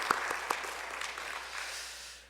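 Church congregation applauding at a Sunday worship service, a few sharp claps at first, then a steady wash of clapping that fades toward the end.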